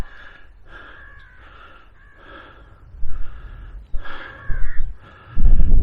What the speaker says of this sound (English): It's all I can hear is crows and the wind.